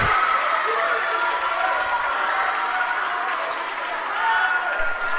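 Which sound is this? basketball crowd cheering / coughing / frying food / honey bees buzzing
basketball crowd cheering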